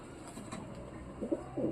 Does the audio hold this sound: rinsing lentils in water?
no